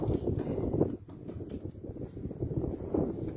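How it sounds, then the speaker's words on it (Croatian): Strong mountain wind gusts buffet the microphone in a low, rumbling roar that swells and eases, with no talk over it. "Vjetar je katastrofa loš."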